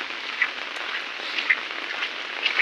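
Heavy monsoon rain pours steadily on a village road in Gothane, Malvan, Sindhudurg in the Konkan, a dense, unbroken hiss with a few louder drips standing out.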